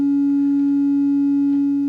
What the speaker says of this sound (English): turning the knob towards a sine wave, it will slowly morph into a sine wave